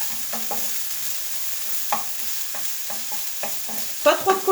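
Onions cooking gently in a pan for lasagna, with a soft steady sizzle and intermittent scraping and stirring taps from a utensil, a few louder clatters near the end.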